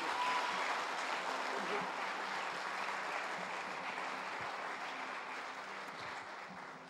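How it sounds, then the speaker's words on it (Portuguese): A church congregation at an international congress gives a sustained round of applause, a dense, even wash of many hands clapping that holds steady and fades only slightly over the stretch. "Dê uma linda salva de palmas para o Senhor."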